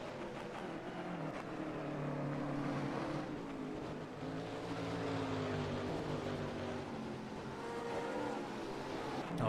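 GT3 race cars lapping Suzuka in a racing simulator, a steady, continuous engine drone with shifting pitch as cars run the long straights, moderately loud and unbroken.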